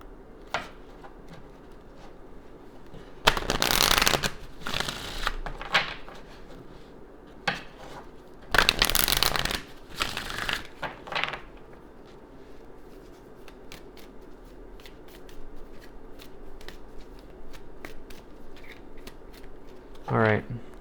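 Oracle card decks being shuffled in two bursts of crisp riffling and slapping, with a few lighter card taps and rustles in between against a quiet room hum.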